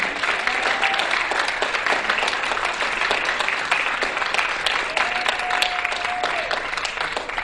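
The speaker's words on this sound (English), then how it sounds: "Let's have a special round of applause for the Bob Bullock State History Museum." Audience applause at the Texas Quiz Show finals, a steady broadband clapping wash lasting throughout, with a faint tone briefly sounding over it.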